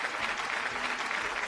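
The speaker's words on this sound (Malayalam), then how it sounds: "ഏതായാലും നല്ലൊരു കൈയടി" Steady, dense applause from a studio audience on a Malayalam TV game show, continuous clapping at moderate level throughout with no talk over it.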